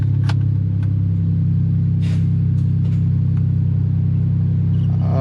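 Supercharged L76 3800 V6 swapped into a Fiero, taken from a 2004 Impala SS, idling with a loud, steady, deep rumble that holds throughout at close range.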